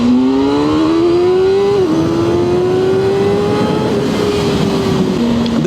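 A sport motorcycle, a 675SR-R or ZX6-R, accelerates hard on a street. Its loud, close engine note climbs steadily in pitch, then drops briefly at each gear change before rising again.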